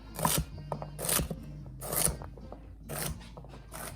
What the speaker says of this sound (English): Next, I'm cutting up my celery. Just cutting it in small pieces.